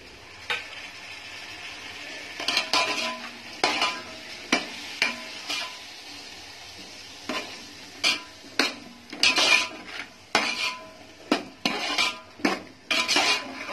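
A spoon stirs yogurt and peas into a veg pulao in a cooking pot, making a series of loud, fairly regular scraping clinks against the metal over a low background sizzle.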